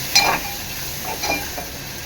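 Softened onion cooks in a pan for bitter gourd bharit, a quiet close sizzle with a few brief spoon scrapes and clinks.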